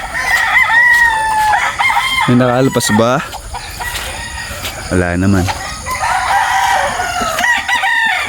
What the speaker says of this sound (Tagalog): Siguro lang yung manok. Para nagkakagulo.